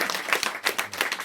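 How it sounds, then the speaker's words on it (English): Audience clapping at a music listening party in London, a dense, steady round of applause with individual claps pattering throughout, fairly close and continuous without talk. "A massive round of applause once again to our queen"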